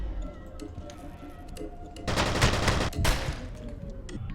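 Gunfire in F.E.A.R. Extraction Point starts as faint, sparse shots, then a loud, close automatic burst erupts for about a second, breaks off briefly and fires again.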